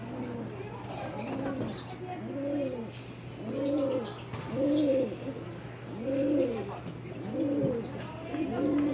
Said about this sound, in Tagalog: habang nalipad pa yung ating kalapate, kanawin na natin